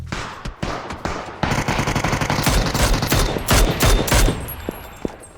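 Rapid bursts of automatic gunfire crackle loudly and continuously in the game PUBG, with overlapping shots and sharp isolated bangs, like intense combat.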